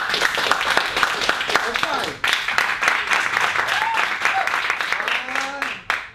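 Audience at an Arabian Nights 2017 show cheering and applauding continuously, dense and loud throughout, with scattered whoops and shouted voices over the clapping.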